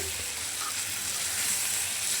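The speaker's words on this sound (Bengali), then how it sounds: "গোটা কিছু জিরে দিয়ে দিলাম তো এখন আরেকটু আরেক মিনিট ভাজার পর আমি এটা নামিয়ে নিচ্ছি" Whole cumin seeds and spice masala fry in a pan, giving a steady, even sizzle that stays close and continuous throughout with no talking.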